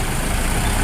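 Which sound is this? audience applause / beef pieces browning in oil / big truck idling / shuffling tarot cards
big truck idling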